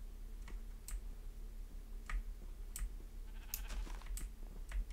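Sheep in the Minecraft video game give a few short bleats, spaced apart over a steady low game hum and light clicking.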